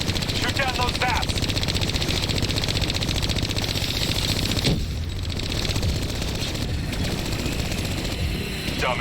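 Turret machine gun fire in the video game Black Ops III keeps up a dense, continuous rattle under a steady mechanical hum, with a voice talking over the shooting.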